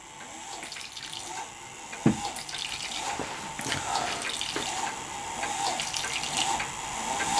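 A plywood nodding donkey model water pump draws water from a cup, producing continuous close trickling and splashing with gurgles, steady and moderately loud throughout.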